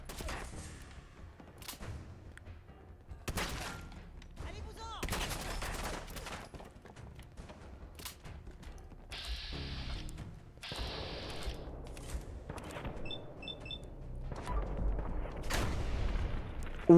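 Video game gunfire comes in scattered bursts of shots and automatic fire, with mechanical clicks and reload ratchet sounds mixed in, moderately loud throughout.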